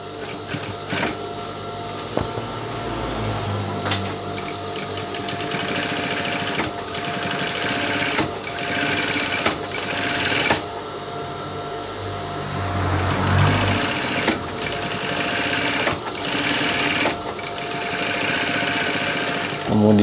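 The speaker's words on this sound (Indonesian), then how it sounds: "Kita setik pinggir dulu." A sewing machine stitches the edge of a pair of drawstring shorts, its fast steady whirring running in bursts with short pauses between seams, close and loud, with a voice speaking at times.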